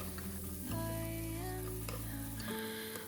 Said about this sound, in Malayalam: കുറച്ച് സോസും കുറച്ച് സോയാ സോസും ഇട്ടിട്ട് ഒന്ന് നല്ലോണം സ്പൂണോടൊന്ന് മിക്സ് ചെയ്യാം